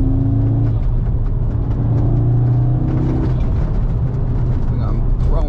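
A 8Y Audi S3 car is driven hard through corners on curvy roads around some buildings, its engine a loud, continuous rumble with steady droning tones that hold close throughout, while someone talks over it.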